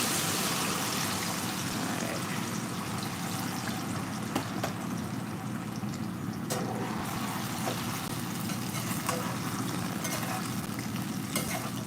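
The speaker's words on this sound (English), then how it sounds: "we're gonna let it fry" Fish for a fried fish stew frying in a pan, a steady, dense crackling sizzle that holds at an even loudness from start to finish with no talking over it.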